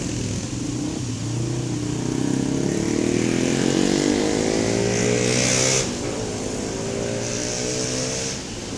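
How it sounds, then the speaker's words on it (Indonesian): Extra bus for PO Haryanto, an HR08 tourism coach at a busy agency filled with holiday travelers, its engine running loud and close with a steady diesel drone that swells and rises in pitch as it revs, then settles back. "bus tambahan untuk PO Haryanto HR08"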